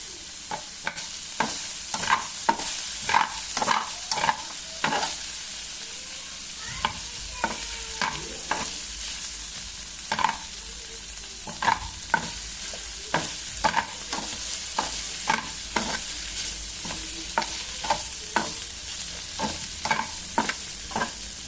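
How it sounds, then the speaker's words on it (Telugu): Palak paneer curry frying in a pan while being stirred, with a steady sizzle under repeated scraping spoon strokes at an irregular rhythm, close and without talk. "చూడండి, మధ్య మధ్యలో ఒక్కసారి అట్లా ఒక 1-2 టైమ్స్ కలుపుతూ ఉండాలి."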